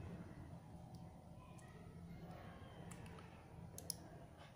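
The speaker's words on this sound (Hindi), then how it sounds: "इस पर क्लिक करना है।" A computer mouse clicks a few times, faint and sharp, over a steady background hiss with no talking.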